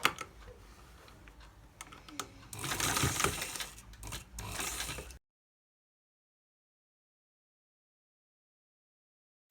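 Sewing machine stitches a trim strip onto a designer sleeve in a run of rapid close clatter lasting a few seconds, then cuts off into silence.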